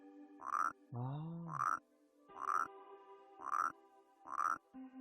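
A frog in the puzzle game Rusty Lake Paradise croaks in a steady series of about six loud, resonant calls, with one brief voice sound among them.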